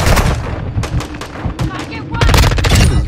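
Rapid bursts of video game gunfire crack out in a chaotic firefight, loud and dense, with a brief lull midway before a heavier volley resumes.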